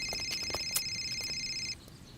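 A phone rings with a steady electronic trill, loud and close, repeating for about a second and a half before cutting off over faint background noise.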